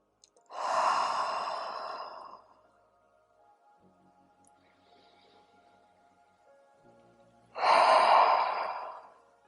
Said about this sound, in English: as you exhale, ha out the breath